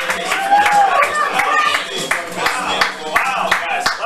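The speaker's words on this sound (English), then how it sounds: "Give it up for the very first Setoiyo" A comedy club crowd applauds and cheers for a stand-up comedian being introduced, a steady wash of clapping with scattered whoops and voices mixed in.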